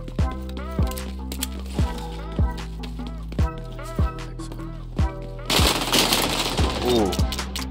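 M16 rifle fire in the video game XDefiant comes as a series of sharp, regularly spaced shots, roughly one per second, mixed with game sounds and a busier noisy stretch near the end.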